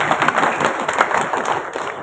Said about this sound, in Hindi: मैं चाहूंगा कि तमाम बफर जोन के रिहायशियों के लिए और उनके रियल्टर्स के लिए भी इसी तरह भरपूर तालियां बजाएंगे